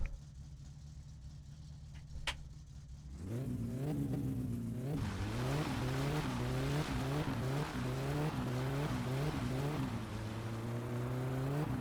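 A car in My Summer Car pulls away as its engine revs up in a rising, repeated pattern through the gears, loud and steady after a brief quiet start, with no talk.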